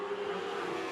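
Dwarf race cars roar together in a heat race at Sunset Speedway in Oregon, a steady, dense engine drone filling the short stretch without a break.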